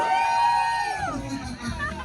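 Parents shouting and cheering together at an outdoor Easter bunny egg hunt, a loud crowd roar with a voice on a loudspeaker rising over it.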